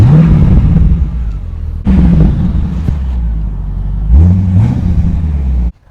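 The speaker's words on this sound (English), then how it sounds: "let's go ahead and listen to that awesome V8 exhaust" A 1994 Chevrolet Corvette C4 V8 exhaust, heard from behind the car, revs up three times in quick succession, each rise in pitch settling back to a deep, loud idle before cutting off at the end.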